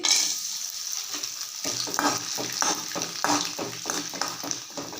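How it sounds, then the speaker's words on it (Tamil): Rice flour vathal frying in hot oil in a pan, a strong, steady sizzle with repeated bubbling bursts and stirring scrapes, close and continuous after a brief quieter start. "இப்போ இதை நம்ம பொறிச்சு பார்ப்போம் பாருங்கள்"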